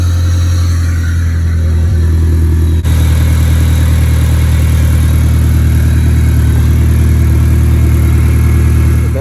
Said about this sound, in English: What you're gonna want to do now is start the car.